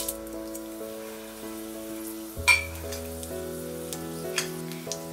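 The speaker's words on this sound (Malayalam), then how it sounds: "എണ്ണ ഇനി ചൂടായിട്ട് വരുമ്പോഴത്തേക്കും നമ്മൾ അതിലേക്ക് 2 വറ്റൽമുളകും 1/4 ടീസ്പൂൺ കടുകും" Dried red chillies and mustard seeds sizzle in hot coconut oil with soft crackles and a sharper splutter midway, fairly quiet beneath steady background music.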